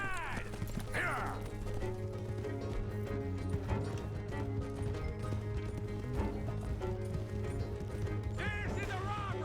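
Horses gallop, pulling a stagecoach in the Western video game Red Dead Redemption 2, with steady hoofbeats and rolling wheels under a continuous layer of game music and effects, plus brief shouts.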